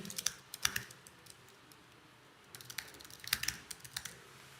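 Quick bursts of keystrokes on a computer keyboard while an email address is entered, clustered clicks near the start and again after a short pause, close and fairly quiet with no talking.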